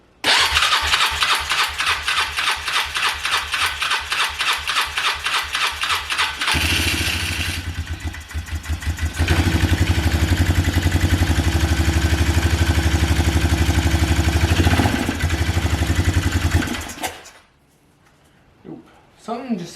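A Polaris Trail Boss 330 ATV engine, just rebuilt, cranks with a rapid rhythmic churn for several seconds, then catches and runs loud and close, surging and revving before cutting off abruptly.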